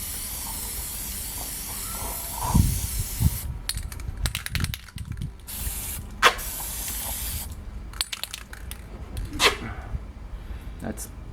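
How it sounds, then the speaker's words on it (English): A spray paint can hisses in several short bursts, close up, spraying the inside of a bottle for bottle bricks, with people talking over and between the sprays. "I'm gonna spray the inside of this and see how this works"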